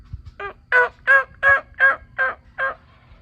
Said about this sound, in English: So they're gobbling big time right here in the middle of November.